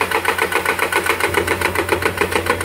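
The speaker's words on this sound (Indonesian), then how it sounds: "hydraulic breaker ini digerakkan oleh tenaga diesel ya" A diesel-powered hydraulic breaker engine runs at a bridge construction site, pulsing in a steady rapid rhythm, loud and close, with no talk over it.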